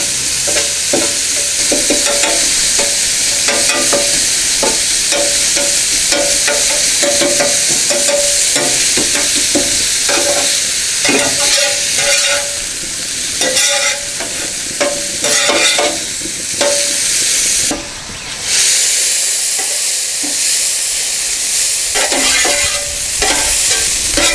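Loud, continuous sizzle of taco shells and breakfast food frying on a Blackstone griddle, with spatula scraping and stirring clatter recurring throughout, close up and without talk.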